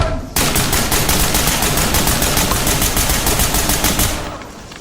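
Rapid automatic gunfire in the Ready Or Not video game, a loud sustained burst of evenly spaced shots that starts abruptly and rattles on for about four seconds before tapering off.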